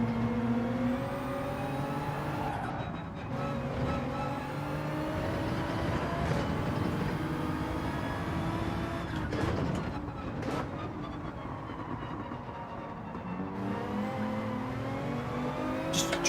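A Toyota Supra race car engine in the racing game Gran Turismo 7 howls at high revs, with rising and falling pitch sweeps as it shifts through gears. The loud, continuous whine is joined by other cars and tyre noise.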